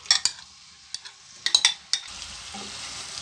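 Marinated chicken goes into hot oil in a pan, a light sizzle with sharp utensil clinks and scrapes in quick clusters, then the frying hiss settling lower near the end.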